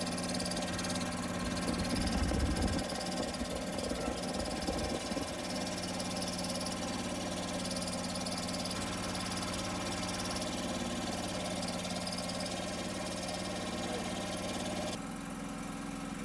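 A John Deere 425 lawn tractor engine idles steadily at close range, a continuous mid-pitched drone with a brief rougher surge early on, no talk.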